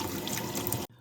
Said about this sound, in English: So I already did the second rinse under the running water.